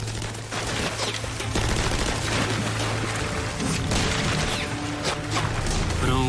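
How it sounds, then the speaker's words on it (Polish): Gunfire rakes paratroopers wading across a swamp in Normandy in 1944, a dense, continuous fusillade of rapid shots and bursts with heavy impacts, loud and sustained throughout. "Spadochroniarze są pod ogniem."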